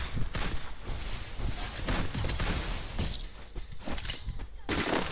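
Rapid bursts of automatic gunfire from the Garena Free Fire MAX battle royale game, dense and continuous, with loud cracking shots throughout and faint voice chat underneath.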